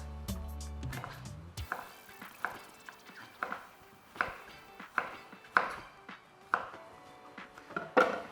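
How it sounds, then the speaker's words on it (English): Knife roughly slicing a peeled broccoli stalk on a cutting board, about a dozen sharp, crisp chops in an uneven rhythm, close and clear, with no talking. "I cut off the skin so we get the fleshy part in the middle, and then I'm just going to roughly slice this."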